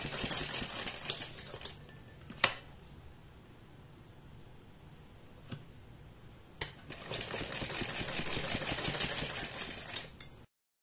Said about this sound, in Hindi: यहाँ इसके चारों तरफ एक कच्ची सिलाई लगा देंगे